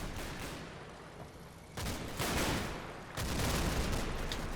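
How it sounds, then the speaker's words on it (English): Gunfire in Combat Mission: Battle for Normandy, a dense noisy crackle of small-arms volleys that swells louder in two steps, continuous and somewhat distant, with no voices. "they come under quite a lot of fire"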